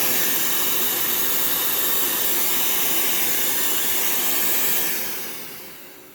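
A Miele U1 upright vacuum cleaner runs at full power, a loud steady broadband roar and hiss that holds level for several seconds, then begins to taper off near the end.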